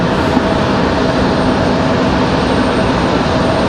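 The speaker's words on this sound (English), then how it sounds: "So American 1904 on final at A321." An American Airlines A321 on final approach at Raleigh-Durham after a flight from Charlotte, heard as a loud, constant jet engine roar with a faint steady whine throughout.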